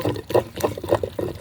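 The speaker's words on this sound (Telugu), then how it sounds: "కొంచెం వాటర్ వేద్దాం." A little water from a small tea glass is poured into ground ridge gourd peel chutney, giving short, close, gurgling splashes in a quick uneven rhythm.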